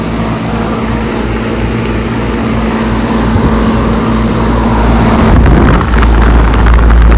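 A running 2011 air conditioner condenser with a scroll compressor, R410A refrigerant and an Ameristar fan motor hums loudly and steadily outdoors, its low drone swelling slightly as a rushing whoosh builds toward the end.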